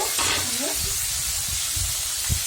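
Shing catfish sizzling and hissing in a hot pan of oil for a Bengali fish curry, a steady close frying crackle throughout with faint stirring.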